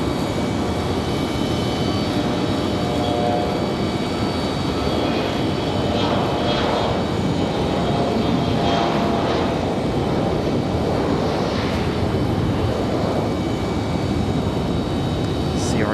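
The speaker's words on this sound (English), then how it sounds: "CRJ departure." A CRJ regional jet departs Raleigh-Durham International Airport on a still, windless day, its engines roaring loudly and continuously for the whole stretch with a steady broadband rush and faint whining tones.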